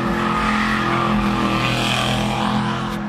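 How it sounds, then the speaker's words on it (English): A car engine revving hard and screaming close by, a loud sustained roar with a rising, strained pitch, during a live TV news report in the street. "A car revs the engine from behind and comes screaming their way."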